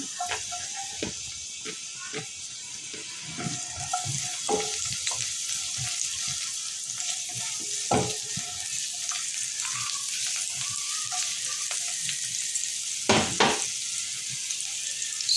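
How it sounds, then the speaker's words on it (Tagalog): Garlic sautéing in a hot pan, a steady bright sizzle throughout with scattered pops and the clatter of stirring, close and fairly loud, with no talking. "magigisa na tayo. Lagay na natin yung bawang."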